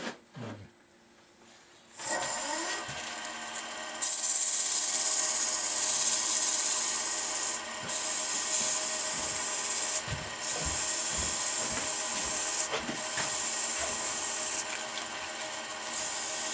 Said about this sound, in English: I'm using a 240 grit sandpaper